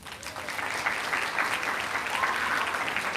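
An audience claps and cheers at a health careers summer internship closing ceremony in Hawaii, a dense burst of applause that swells quickly and holds steady, with a few whoops rising above the clapping.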